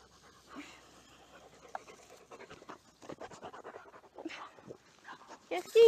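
Excited dog pants and slobbers close to the microphone in quick, uneven wet breaths and snuffles, with a person talking over it and a sharp voice at the end.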